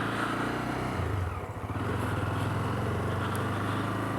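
A motorcycle with a past minor oil leak is ridden through town streets, its engine note a steady throbbing drone with a brief dip and a rise in revs partway through, heard up close with no speech.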